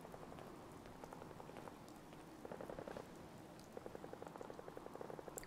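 Steady rain in Fallout 4 patters on a hard surface, with scattered droplet ticks over a soft, continuous hiss.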